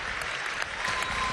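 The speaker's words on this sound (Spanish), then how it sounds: "Un aplauso a José Vicente Rangel, cumpleañero de hoy." Applause for a birthday guest at a formal event, a dense crowd clapping steadily and fairly loud for the whole short stretch, with no speech over it.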